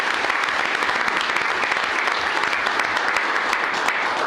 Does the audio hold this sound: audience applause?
yes